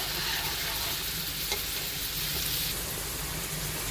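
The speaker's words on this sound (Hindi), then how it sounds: "उसमें ये 1/3 कप ऑयल ऐड कर दें। हल्का सा गर्म होगा तो इसमें प्याज शामिल कर देंगे।" Sliced onions sizzle steadily in about a third of a cup of lightly heated oil while a spoon stirs them, producing a continuous close frying hiss with soft scraping, no voices.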